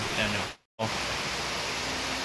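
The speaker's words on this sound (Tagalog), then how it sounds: "Ang lakas na naman po ng ulan." Heavy rain during strong wind pours down in a dense, steady hiss close by in the Camarines Norte countryside, briefly cut off by a short gap, with a voice speaking over it.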